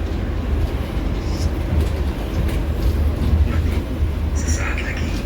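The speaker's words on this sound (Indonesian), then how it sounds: "kita nantikan aja kereta api Gajayana tiba di stasiun Kepanjen" The Gajayana passenger train rolls into Kepanjen station in Indonesia, a steady loud rumble of rail wheels and carriages with voices faintly in the background.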